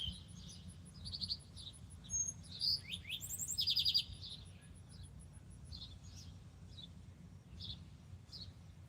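An unidentified bird calls outdoors in a series of high, quick chirps and twittering phrases, fairly faint and somewhat distant, with a louder burst in the middle over a low background rumble.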